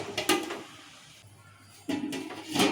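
Metal lid clanks onto a cooking pot of fish curry masala simmering in oil, two clattering bursts separated by a quiet pause, close and distinct.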